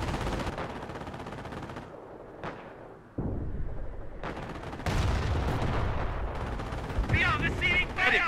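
Gunfire and artillery in the Company of Heroes City Under Siege campaign mission, loud rattling bursts and heavy booms broken by brief lulls, with shouted unit voices and battle chatter mixed in.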